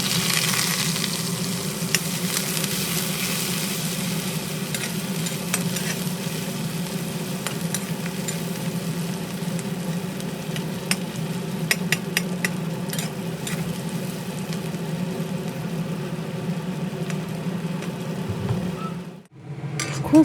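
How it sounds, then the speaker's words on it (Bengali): Chopped onions fry in mustard oil in a kadai over medium-high flame, a steady sizzle with occasional clinks of stirring that runs continuously and cuts off abruptly near the end. "কড়াই বসিয়ে সর্ষের তেল দিয়ে মিডিয়াম টু হাই ফ্লেমে গরম করে নিয়ে এর মধ্যে পেঁয়াজ কুচিগুলো দিয়ে ভালোভাবে নেড়ে চেড়ে পেঁয়াজের বেরেস্তা করে নেব"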